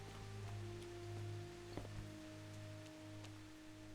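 Steady soft rain patter with scattered drips in the video game Kingdom Come: Deliverance, under a low droning hum and a few faint clicks; no voices.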